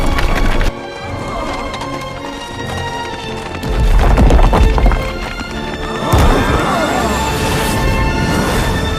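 Horses gallop in an anime scene with loud, busy clip-clop hoofbeats that surge and fade over a music score, mixed with rattling and thudding effects, while voices speak over the action.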